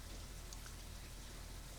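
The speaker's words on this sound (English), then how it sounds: "So yeah, I can hear rain outside." Steady rain falls outside, a continuous soft hiss with faint patter, heard alone at low level.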